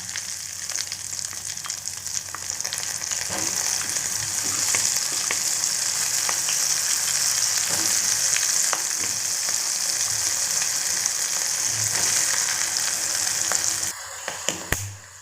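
Corn kernels frying in hot oil for a crispy snack, a steady loud hiss of sizzling with scattered crackles and pops, ending with a few sharp taps as it stops.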